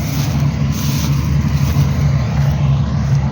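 A tractor towing a trailer rumbles in at an oat harvest, a steady low engine drone with a faint rhythmic throb, moderately loud and continuous, no voices.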